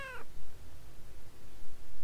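A single cat meow sound effect in a Scratch cat-chasing-mouse game, a short clear meow at the start followed by steady background hiss.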